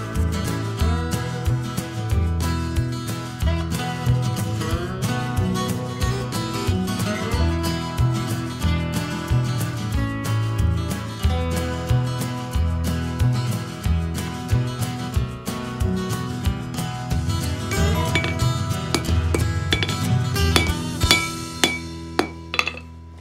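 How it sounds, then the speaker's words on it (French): A hand hammer strikes hot metal again and again while a skinner bowie knife is forged, the ringing blows coming in a steady rapid rhythm, close and loud, with no talking. "Enfin au marteau, mais à la main."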